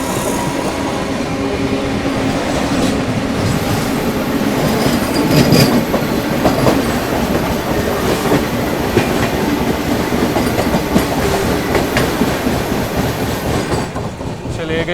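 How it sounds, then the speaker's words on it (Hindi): A Vande Bharat Express running from Varanasi to New Delhi rolls past at reduced speed, with steady loud clickety-clack of wheels over rail joints and occasional squeals for the whole stretch. "वाराणसी से चलकर नई दिल्ली की ओर जाने वाली वंदे भारत एक्सप्रेस। ये भी स्लो हुई है।"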